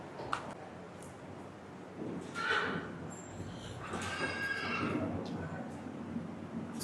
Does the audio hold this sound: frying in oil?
no